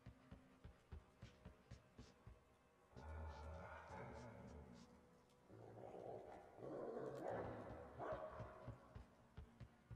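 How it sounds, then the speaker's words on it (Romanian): Dogs bark and growl in the video game Metro Exodus, with short repeated barks at first, then louder overlapping snarls and yips in the middle and end. "Nu știu unde iese câinele astea, că face gălăgie rău."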